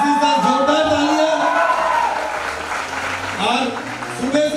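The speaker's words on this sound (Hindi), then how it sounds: "जोरदार तालियां" A crowd claps heavily and continuously, the applause dipping briefly before swelling again, with a voice speaking over it.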